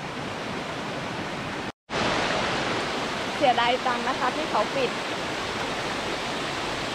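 A mountain stream on Doi Inthanon flows with a steady broadband rush of water throughout, close and continuous, with someone speaking over it partway through.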